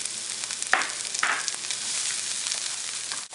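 Yellow onion and scallions sauté in hot oil for a springtime tortellini dish, a steady close sizzling hiss with two brief louder bursts near the start.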